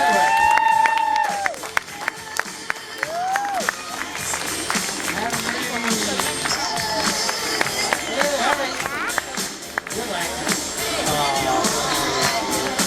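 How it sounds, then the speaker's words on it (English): Audience at a sheep show clapping for the last sheep, heard as steady, dense applause mixed with crowd chatter and a voice speaking over it, with a few brief sheep-like bleats early on. "Let's have a big clap for our last sheep business."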